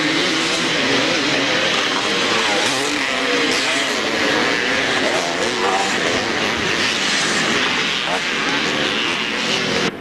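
Loud, continuous engine roar from Honda 250 motorcycles racing in a classic scramble at Hawkstone, sustained and steady throughout with no clear breaks.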